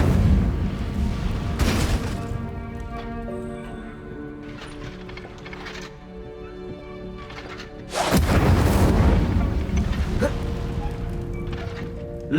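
Fire spells cast in Hogwarts Legacy, with two loud whooshing, crackling bursts amid continuous game music and effects, the second burst heavier and longer-lasting toward the end.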